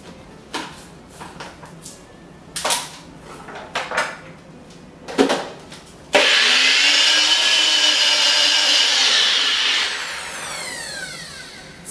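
Kitchen clatter and a few knocks come first, then an electric blender whirs loudly and steadily for about four seconds, blending basil pesto with oil and lemon juice, before it winds down.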